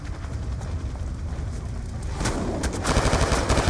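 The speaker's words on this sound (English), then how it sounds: "Infantry fire to our left" Infantry gunfire in Call of Duty Black Ops II, a dense roar of rapid automatic fire, loud and continuous, intensifying with sharper bursts and cracks toward the end, no talking.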